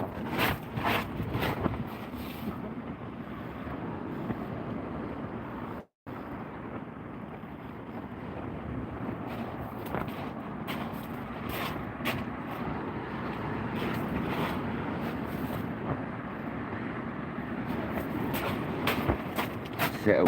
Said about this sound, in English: It's chilly in that wind.